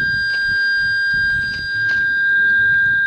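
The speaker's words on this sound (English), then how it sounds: "It's just like a whistling sound" A sustained high whistling tone holds steady from start to finish over faint, uneven background rumble.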